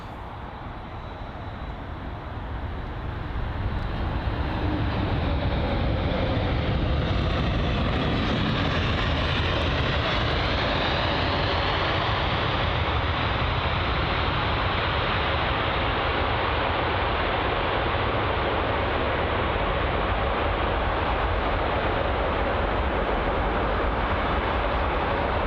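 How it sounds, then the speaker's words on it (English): United Boeing 787 Dreamliner landing on runway 27 right at London Heathrow, a broad engine roar that swells over the first few seconds and then holds as a loud, steady rushing drone, with no voices. "the United 787 Dreamliner for its arrival, 27 right"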